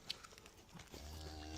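Cow on a farm lowing, a low sustained moo that starts partway through and holds steady to the end, fairly faint and distant, with light background rustle before it.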